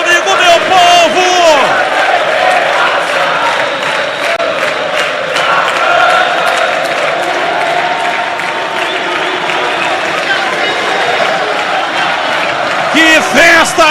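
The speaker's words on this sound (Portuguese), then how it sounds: "Olha a torcida, vem comigo, meu povo." Football fans in a stadium crowd roar and chant continuously at a Guarani vs Palmeiras match, loud and dense throughout, with whoops and surges at the start and end.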